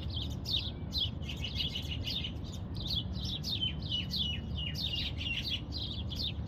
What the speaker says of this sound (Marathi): आणि इथे ज्यात आवाजही येत आहे ना तुम्हाला पक्ष्यांचा